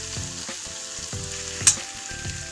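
Ginger and green chili paste sautéing in a pan for bread pakoras, a steady soft sizzle with periodic scraping strokes of a spatula and one brief clink, no talk.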